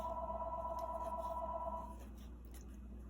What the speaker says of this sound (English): I'm not going to pick up the phone.